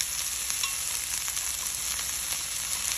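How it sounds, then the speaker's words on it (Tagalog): Garlic and onions frying in a pan for spaghetti peperoncino, a steady, bright sizzle with faint stirring sounds, close and continuous through the short stretch, no talking. "Brownin din natin ang ating sibuyas."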